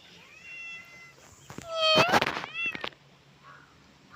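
A cat meows repeatedly while being caught at a dairy milking spot, with drawn-out, rising cries that grow louder and more strained in the middle, close by over faint background noise.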